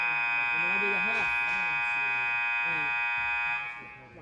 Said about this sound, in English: Wow, that's an aggressive buzzer.